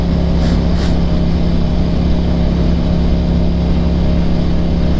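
Steady engine drone from a motorcycle ridden through weekday morning commuter traffic, loud and close with continuous wind and road rumble, a constant tone with no clear revving, and no talking.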